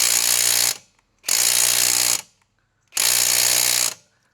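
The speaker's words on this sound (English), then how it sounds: "Now that's the gun shutting off, not me releasing the trigger. That's just how this Milwaukee does it." A Milwaukee Surge impact driver hammers on a lug nut torqued to 80 foot-pounds, giving three loud, close bursts of rapid rattling impacts, each lasting just under a second and separated by short silences as the tool shuts itself off.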